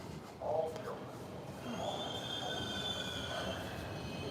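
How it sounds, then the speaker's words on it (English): A train bound for Harlem passes nearby, wheels squealing in long high tones over a steady rumble, while a person talks. "that train right there go to Harlem"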